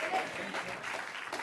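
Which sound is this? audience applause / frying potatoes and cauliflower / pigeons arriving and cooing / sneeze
audience applause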